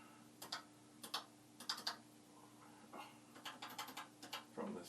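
Someone types on the chiclet keyboard of an 8K Commodore PET in faint, close, uneven clusters of clicky keystrokes over a low hum.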